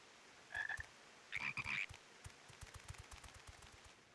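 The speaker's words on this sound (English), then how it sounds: "Look at those little fur froggies." Small furry frogs croak in Final Fantasy XIV: Endwalker, two bursts of croaks close together followed by quieter rhythmic game sounds.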